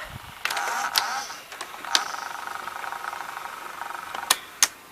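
A Fisher FVH-907 VCR tape mechanism after stop is pressed: a quiet motor whir runs under several sharp mechanical clicks and clunks, close up and without talk.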